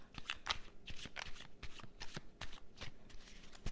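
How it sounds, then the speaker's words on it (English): Tarot cards are shuffled in close, quiet riffling bursts that repeat in a steady rhythm throughout, with no talking. "Sometimes you just have to shuffle more than others, because I'm waiting for the cards to tell me stop."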